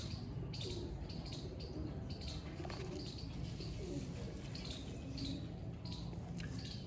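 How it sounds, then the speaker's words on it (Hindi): Bateray pigeons coo softly and repeatedly amid a dense, constant background of birds and farmyard noise. "ये हैं जी बटेरे कबूतर।"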